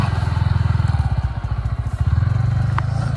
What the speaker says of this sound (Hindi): भाई अभी ऑफ रोडिंग स्टार्ट हो चुकी है MT15 की।